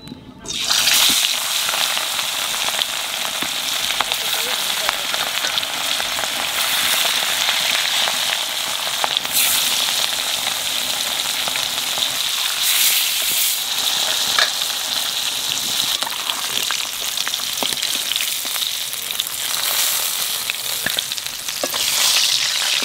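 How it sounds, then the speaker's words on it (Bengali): River fish frying in hot oil gives a loud, steady sizzle that crackles without a break for over twenty seconds, close up and with no talking over it. "মাছ ভাজা হয়ে গেছে"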